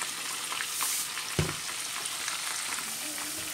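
Boal fish frying in hot oil, a steady close sizzle throughout with one sharp crackling burst as oil spits, no voices.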